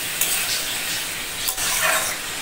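Rice frying in a pan in a home kitchen gives a steady hiss and sizzle, with a few brief scraping stirs over it, close and moderately loud.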